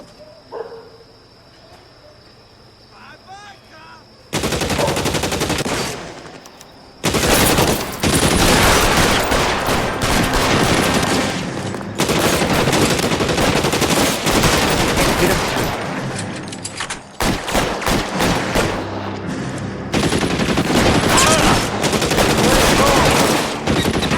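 Sustained, loud automatic gunfire from a bank robbery shootout in L.A. Noire, dense bursts of rapid shots running continuously with brief gaps after a quieter opening, a dog barking faintly in places.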